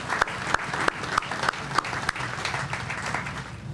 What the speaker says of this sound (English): how about a round of applause for Steve Timmer, our Citizen of the Year.